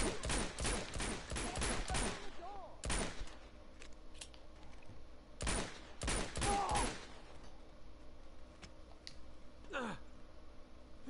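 Gunfire blasting at a wall in Uncharted 2, loud rapid volleys of sharp shots in two clusters separated by a quieter stretch with scattered single reports, ending with one isolated shot.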